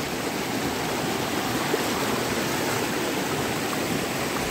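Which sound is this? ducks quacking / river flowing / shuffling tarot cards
river flowing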